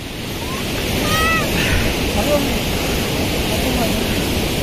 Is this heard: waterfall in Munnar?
yes